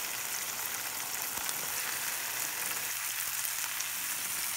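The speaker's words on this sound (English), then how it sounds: "Then fry 1 packet of tofu first. Pan fry tofu both sides until it turns into golden brown." Tofu from a packet pan-frying in vegetable oil in a large fry pan, a steady, close, bright sizzle crackling throughout with no talk.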